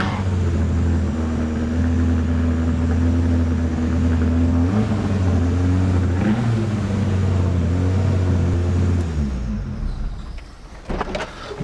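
A car engine with big cams and aftermarket pistons idles unusually high, a steady loud lumpy drone that holds for about nine seconds before dropping away near the end.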